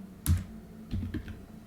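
Keys clack on a computer keyboard while a command is entered in a terminal: a few quick, close taps in a short burst, then two or three lighter keystrokes, with a faint hum behind.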